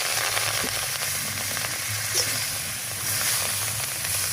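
Close, steady sizzle of chili flakes frying in oil in a pan, with light scraping as they are stirred and no voices.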